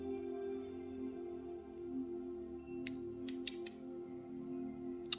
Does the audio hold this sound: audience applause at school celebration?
no